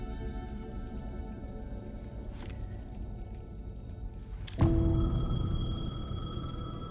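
A payphone ringing in the video game Alan Wake 2, a sharp bell-like ring that bursts in midway and then sustains, over a steady dark ambient bed resembling rain.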